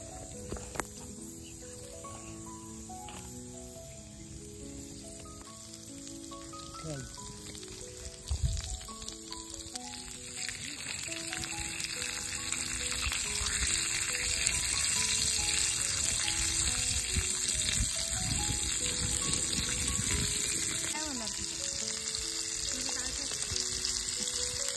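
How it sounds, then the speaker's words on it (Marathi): Oil heating on a roof tile over an outdoor fire for tandoori chicken in a forest setting, a steady sizzle that swells louder midway and holds, with faint music in the background and no talk. "आपण त्याच्यावर तेल टाकूया. तापत आलेलं आहे तेल मस्तपैकी"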